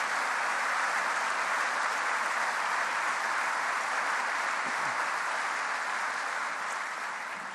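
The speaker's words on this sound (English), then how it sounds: "let's give them all a round of applause" A conference hall audience gives a steady, full round of applause, an even wash of many hands clapping that holds throughout and eases slightly at the end.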